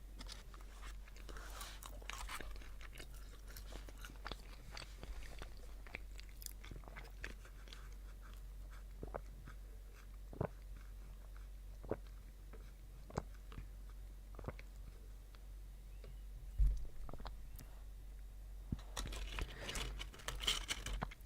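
Someone eats McDonald's fries up close, with soft irregular bites and chewing crunches and occasional crinkles of the packaging over a low background hum.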